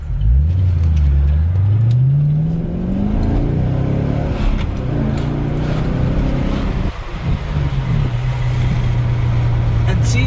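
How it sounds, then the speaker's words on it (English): A 2010 Chevrolet Camaro 2SS accelerates from inside the cabin, its engine note climbing steadily, shifting, then holding a loud drone under road and wind noise while someone talks over it. "that's pretty good acceleration right there"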